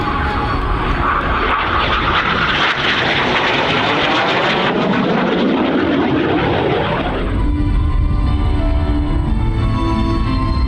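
A Frecce Tricolori solo jet performing a tail slide at the New York Airshow roars loudly overhead, its engine noise sweeping and shifting in pitch before settling into a broad, steady rumble.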